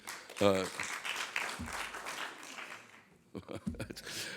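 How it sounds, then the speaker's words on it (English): Thin, scattered audience applause at a National Press Club talk by a comedian: a few hands clap weakly for a couple of seconds after a voice, then fade as talking resumes. "How sad applause was that?"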